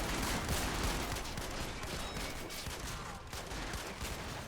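Sustained battlefield gunfire from BAR automatic rifles during a USMC beach landing in Men of War Assault Squad, a constant dense wash of shots and distant explosions with no clear separation between bursts.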